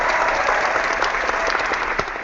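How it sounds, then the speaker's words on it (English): Applause from a studio panel audience, a dense, steady wash of clapping that holds at an even level throughout. "round of applause"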